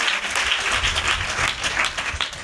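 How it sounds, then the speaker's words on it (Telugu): Worshippers at a fasting prayer gathering in Ramavarappadu clap together in praise of God, a thick, continuous wash of applause filling the hall from start to finish. "చప్పట్లు కొట్టి దేవునికి స్తోత్రం చెప్ప."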